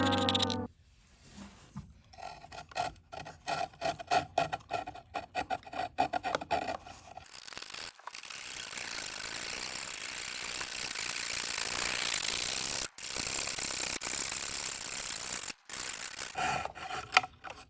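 A small hand saw cuts a neck notch into a dried gourd ukulele body with close, rasping back-and-forth strokes, first uneven and choppy, then a loud steady stretch of continuous sawing.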